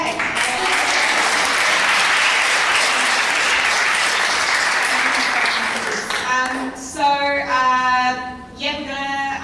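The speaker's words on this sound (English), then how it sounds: "can we do another round of applause?" A crowd at an Aboriginal poetry open mic night at a gallery gives a dense, loud round of applause lasting about six seconds, then it fades as a speaker's voice takes over.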